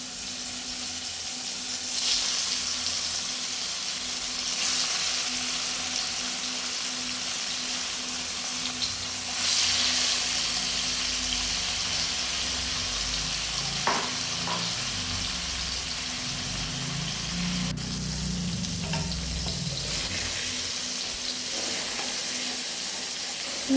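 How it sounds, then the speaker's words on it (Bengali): Paneer fries in a kadai with very little oil, giving a steady soft sizzle and hiss throughout with occasional stirring scrapes. "পনিরটা ভেজে নেব এখন"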